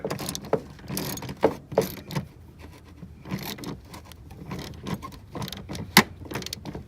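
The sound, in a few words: ratchet with 10mm socket loosening a bolt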